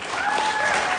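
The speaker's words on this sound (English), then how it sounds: "give her a round of applause" A short burst of applause from an audience at a high school singing competition semifinal, steady clapping with a faint tonal whistle over it.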